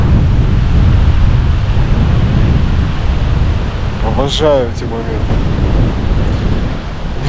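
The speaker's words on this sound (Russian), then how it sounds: "Ветер просто ураган." Strong, near-hurricane wind roars and buffets the microphone during a bicycle ride, a loud continuous low rumble with someone speaking briefly partway through.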